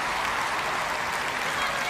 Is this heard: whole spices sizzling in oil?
no